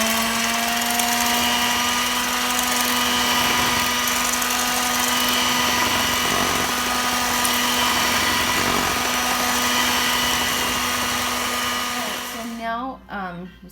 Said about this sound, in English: We're gonna go ahead and start to blend again. I'm gonna blend it on slow, then I'm gonna speed it up.